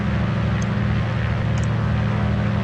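Grumman JRF-6B Goose twin radial engines in a flight simulator, a loud steady low drone and propeller thrum holding constant throughout with no voices.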